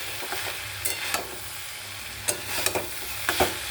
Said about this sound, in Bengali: এবারে আর একটু নেড়ে দিই।